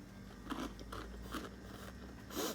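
Crunchy bites and chewing into a homemade shoggoth cake, heard as several short crisp crunches close to the microphone with no talking.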